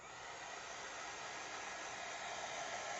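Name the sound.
heat gun drying adhesive on craft card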